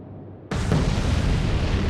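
Torpedoes strike a warship in the naval combat game Atlantic Fleet, Battle of the Atlantic campaign: a sudden loud blast that erupts after a quiet lead-in and holds as a broad, roaring rumble to the end.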